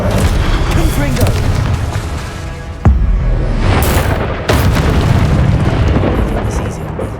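A Confringo fire spell blasts in Hogwarts Legacy, a loud booming explosion with sharp bursts near 3 and 4.5 seconds over a dense, continuous rumble of game effects.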